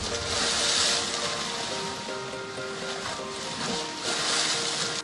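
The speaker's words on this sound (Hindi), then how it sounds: "समंदर की लहरों का शोर" Sea waves wash onto the shore along Marine Drive in Gwadar, a steady broad surf hiss with swells rising and falling, close and fairly loud, with faint tonal sounds in the background.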